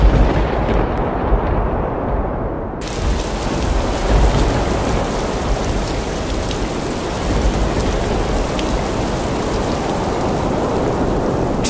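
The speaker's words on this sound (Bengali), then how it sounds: "ঠিক তখনই অঝরে বৃষ্টি শুরু হয়ে যায় আর প্রবল বাতাস বইতে থাকে" Heavy rain pours steadily with a dense, loud roar and gusting wind, a night storm at a riverside cremation ground; the downpour swells suddenly after a quieter opening and stays constant, with a low thunder-like rumble beneath.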